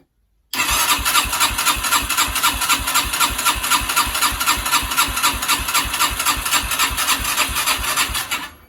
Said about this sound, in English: So I'm going to press the electric start.